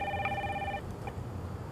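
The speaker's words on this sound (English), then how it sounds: "Is that your cell phone?" A cell phone rings late at night in a drama scene, a short electronic ringtone burst that cuts off, leaving quiet room noise, no speech.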